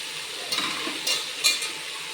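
Green chillies fry in oil in a pan for a ponnaganti leaf curry, giving a steady soft sizzle with a few light stirring scrapes and clinks. No one speaks.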